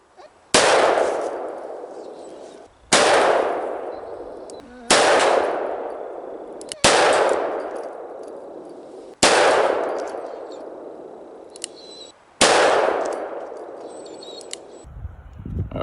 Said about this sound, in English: Let's see if we can tighten up those groups with the